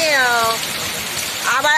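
Summer pre-monsoon rain shower pouring steadily as a dense, even hiss, with a voice talking at the start and again near the end.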